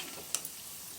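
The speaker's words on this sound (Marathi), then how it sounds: "हे आपण तुपामध्ये नाही फ्राय केलेले, तेलामध्ये फ्राय करतोय आपण." Gulab jamun dumplings frying in hot oil give a soft, steady high hiss of sizzling, with a couple of tiny pops near the middle.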